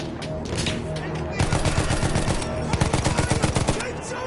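Rapid bursts of machine gun fire crackle in a World War I battle in Battlefield 1, dense and loud, with sustained rattling volleys over a noisy battlefield din and shouted voices in the background.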